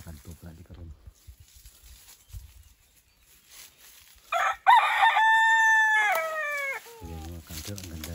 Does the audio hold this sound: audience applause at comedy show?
no